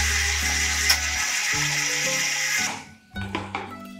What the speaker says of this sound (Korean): 핸드블렌더 해볼게요.